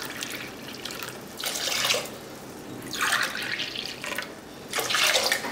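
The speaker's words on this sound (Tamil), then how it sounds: "சுண்டல் வேக வச்ச தண்ணி அப்படியே சேர்த்துக்கோங்க." Water pours in several splashing bursts into a cooking pot, with quieter gaps between pours and steady low background noise; it is chickpea cooking water being added.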